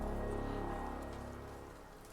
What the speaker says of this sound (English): The rain never let up.